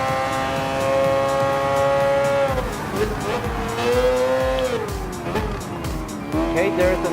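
A Mazda 787B rotary-engine race car in the Gran Turismo Sport video game screams through gear changes, its high, buzzing engine pitch rising and dropping repeatedly with tire squeal, while someone talks over it.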